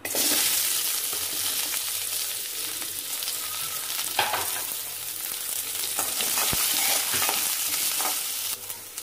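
Chopped onions dropped into hot oil with fenugreek seeds, a loud, steady crackling sizzle with bursts of spattering and occasional stirring clinks, no voices.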